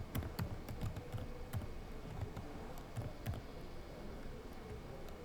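Rapid keystrokes on a computer keyboard as a ping command is typed into a Cisco router session, a steady run of close, crisp clicks with brief pauses and a faint background hum.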